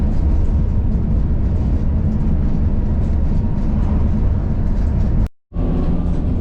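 Steady low engine rumble and road noise inside a moving bus on the way to Bicheno, loud and continuous, broken by a brief sudden dropout near the end before the drone resumes.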